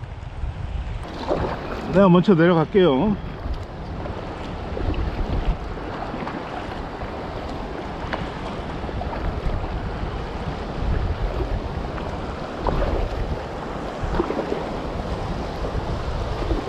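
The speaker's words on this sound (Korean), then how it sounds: "와, 물소리가 크네." Loud, steady rushing river water roars throughout, heard from a packraft, with a person speaking briefly near the start over the noise.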